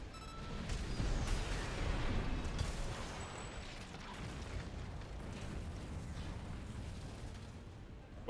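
Pulse missile blasts in the mech combat game Armored Core 6 form a dense, sustained roar of rumbling explosions and mechanical noise, loudest early on and then settling into a steady wash.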